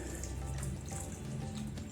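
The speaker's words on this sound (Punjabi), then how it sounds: "ਇੱਥੇ ਮੈਂ 1 ਕੱਪ ਪਾਣੀ ਪਾ ਦਿੱਤਾ ਸੀ" A cup of water pours onto tamarind and jaggery in a bowl, making a steady, close, continuous rushing splash that holds evenly throughout.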